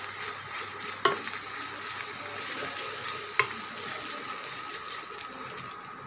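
Onions and spices, including turmeric, ginger-garlic paste and garam masala, fry over a low flame in a pan for brinjal curry. A steady, close hiss runs throughout, broken by two sharp spoon scrapes against the pan.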